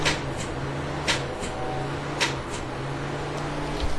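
A 1996 Jeep Grand Cherokee with a 5.2-liter V8 that will not start: the starter gives sharp, isolated clicks at uneven intervals over a steady low hum, with no cranking between them.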